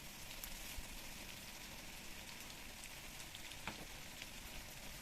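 Tomatoes with salt fry among onions in a pan, a faint continuous hiss with a couple of small pops, distant and low in level.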